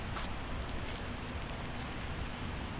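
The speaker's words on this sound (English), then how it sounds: "in the rain" Rain falling at Green Lake in Seattle makes a steady, soft, even hiss with faint scattered patters and no voices.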